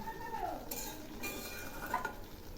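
A spoon stirs raw tomato curry with crisp fried onions in a pan, producing soft scrapes and light metallic clinks over a faint, low sizzle, close and fairly quiet.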